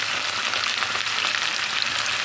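Steady, dense sizzling of potatoes frying in a hot pan, close and continuous with crackling spatter and no voices.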